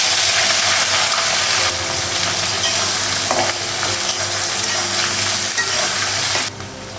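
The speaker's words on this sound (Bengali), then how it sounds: "পেঁয়াজটা ভেজে নেব" Onion frying in oil with dried chilli, green chilli, cinnamon and cardamom, a loud continuous sizzle with occasional stirring scrapes, close and without talk.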